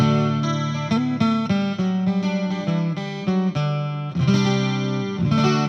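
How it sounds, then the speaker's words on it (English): A Fender VG Stratocaster modeling a 12-string acoustic guitar: bright, shimmering strummed chords with a doubled, chorus-like ring, playing a chord progression alone at steady volume. "And now you've got a 12-string acoustic."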